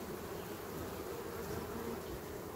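Honey bees swarm over a hive frame packed with honey as the colony stores food for winter. A dense, steady buzzing hum fills the air close by, unbroken and without speech.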